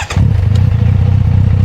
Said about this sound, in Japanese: エンジンつけます。